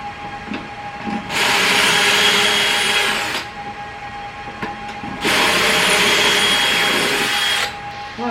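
A drill bores pocket holes into wooden boards for above-ground garden beds, with two loud, sustained high-pitched whirring bursts of about two seconds each, separated by a quieter pause with light handling sounds.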